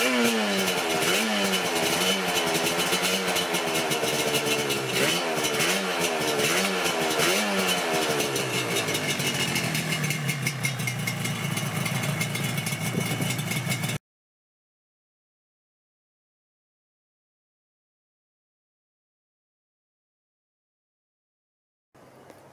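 A Yamaha RZ350 resto-mod two-stroke motorcycle engine runs loudly at close range for about fourteen seconds, its revs rising and falling in repeated blips before settling to idle, then cutting off into silence with a brief knock near the end.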